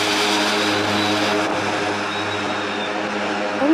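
A small propeller plane runs its engine at full power with brakes held at Lukla Airport before a rocket-style takeoff, a loud, steady, close droning roar with a sustained propeller hum.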